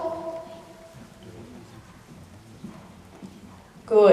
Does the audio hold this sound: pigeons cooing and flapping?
no